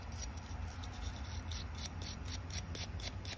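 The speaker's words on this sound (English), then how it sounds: "we're going to take a steel brush and get the remaining paint out of the cracks." A steel brush scrubs leftover paint from the cracks of a Hot Wheels '32 Ford hot rod toy car, making quiet, steady, rhythmic scratchy strokes close by, with no talking.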